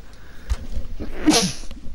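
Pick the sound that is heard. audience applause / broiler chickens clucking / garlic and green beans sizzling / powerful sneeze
powerful sneeze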